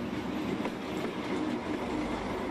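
A train runs along a railway in Vietnam at night, a steady loud rolling rumble with faint clickety-clack from the wheels, continuous throughout with no voices.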